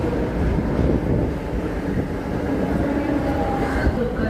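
Mumbai slow local train arriving at Sandhurst Road station, a close, rumbling, windy roar of the carriage rolling in, with a faint voice partly audible underneath.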